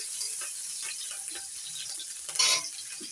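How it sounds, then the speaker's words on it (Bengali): Chopped green chillies frying in a pan of oil with nigella seeds for a home-cooked Bengali dish, a soft steady sizzle with light stirring and a brief louder flare near the end. "কাঁচা লঙ্কাগুলো একটু ভেজে নিয়ে"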